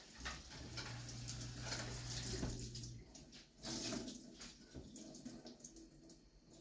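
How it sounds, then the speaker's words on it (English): Hands are washed under a running kitchen tap over a metal sink, the water splashing and streaming steadily at close range with shifting spatter as the hands move, then briefly cut and restarted. "I'll just wash my hands."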